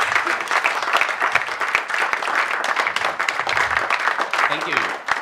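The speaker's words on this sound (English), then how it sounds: "can we all please stand up and give Ralph Anania a huge round of applause" A conference crowd gives a speaker a standing round of applause, a steady wash of many hands clapping, with a voice briefly cutting through near the end.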